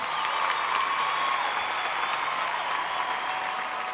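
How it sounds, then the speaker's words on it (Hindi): An awards-show audience applauds Bhojpuri star Pawan Singh with a steady, dense wash of clapping that holds evenly for several seconds at moderate distance. "जोरदार तालियां आप सबके चहेते पवन सिंह जी के लिए।"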